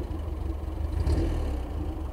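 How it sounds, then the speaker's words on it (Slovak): A Fiat 215RB tractor engine runs steadily with a deep low rumble and even throb, loud and close, holding a constant pace with no talking. "Takto mal znieť traktor."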